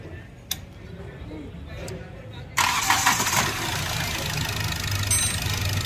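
Car engine idling and then revved for diagnosis of a knocking fault, a sharp jump in level midway as the throttle opens, with people talking over it.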